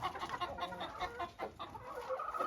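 Ameraucana hens sitting in a nest give soft, repeated clucks and murmurs, close by and fairly quiet, in short irregular bursts without speech.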